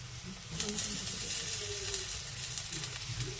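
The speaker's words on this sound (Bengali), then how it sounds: "পেঁয়াজগুলো হালকা হালকা করে ভেজে নিয়েছি এবার এর মধ্যে দিয়ে দেবো আমি টমেটো কুচিগুলো" Chopped tomatoes hit a pan of lightly fried onions, raising a steady, close sizzle and frying hiss that runs continuously with faint stirring underneath.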